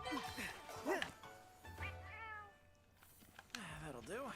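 A cat meows repeatedly in drawn-out, rising and falling cries, close and fairly loud, with a voice speaking between and over the meows.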